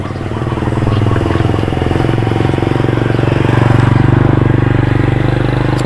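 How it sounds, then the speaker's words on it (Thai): A villager's motorcycle engine chugging loudly and close, its steady rhythmic putter rising and holding as the bike passes through a rural village. "เป็นรถมอเตอร์ไซค์ของชาวบ้านนเพื่อน"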